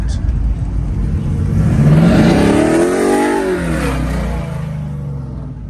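A slammed Dodge truck at a Michigan car meet revs its engine loudly nearby, the pitch sweeping up and then falling back over a few seconds before fading as the truck passes.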